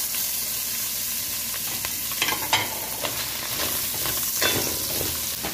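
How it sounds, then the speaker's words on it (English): Garlic, onions and peppers sizzle steadily in a hot pan while a utensil stirs them, giving close, continuous frying hiss with occasional scraping strokes and no talking. "This time I'm gonna add my garlic, onions and peppers."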